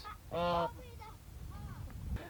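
A guard goose on a homestead flock gives one loud, strident honk near the start, then softer calls and background voices follow at a distance.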